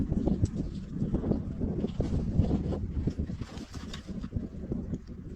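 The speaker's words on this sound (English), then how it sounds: "Just then, a strong wind kicked up." Strong wind gusting across an open mountain slope with scattered wild pear trees, a steady loud roar buffeting the microphone, with faint bird calls underneath.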